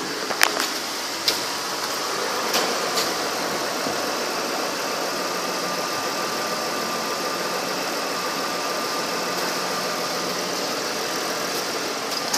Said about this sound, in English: Clunkin you heard is this tire and wheel here. The tie rod's broke, so it's just free spinning.